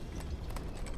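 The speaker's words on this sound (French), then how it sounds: "Avec ton petit cheval là. Toulouk, toulouk, toulouk." A horse gallops in the Elden Ring video game, its hooves clip-clopping in a quick, fairly soft rhythm over a brief stretch.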